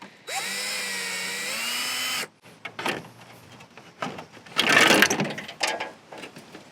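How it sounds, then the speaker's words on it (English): A power drill whines steadily for a couple of seconds removing a bolt on a camper, then stops, followed by clicking, ratcheting and rattling metal noises nearby. "armed with the drill and a ratchet this time"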